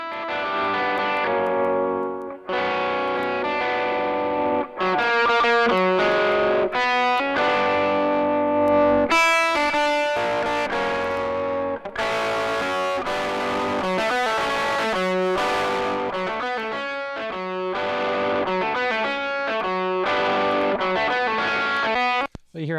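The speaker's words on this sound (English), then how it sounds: "you can get completely fuzzed out, kind of gross distortion on there" Heavy fuzzed-out distortion from a compressor colours a music recording, a gritty, saturated instrument part that plays on in phrases while the setting is adjusted, loud and dense throughout.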